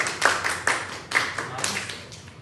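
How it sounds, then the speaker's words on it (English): A classroom of secondary school students clapping during a chemistry lesson: a short, loose burst of several distinct claps from a small group, close and fairly crisp, tapering off within a couple of seconds. "Give yourself a round of applause."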